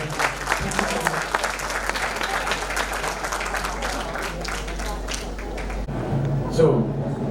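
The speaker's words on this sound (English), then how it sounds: "A big round of applause for the two big people." Audience applause at a brand carnival logo launch, a crowd clapping steadily for the chief guests, with a voice talking over it and a sound system hum, the clapping dropping away near the end.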